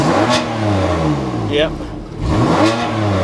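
A BMW M4 GTS with a titanium exhaust revs in neutral, giving two or three close, loud engine blips that rise and fall, while someone briefly speaks over it.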